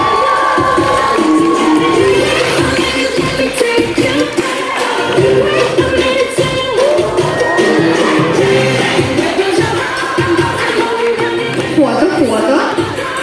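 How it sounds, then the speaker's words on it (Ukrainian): An audience at a Ukrainian multi-genre festival and competition cheers and applauds during an award ceremony, a loud, continuous wall of crowd noise with shouts and whoops running throughout. "Оплески!"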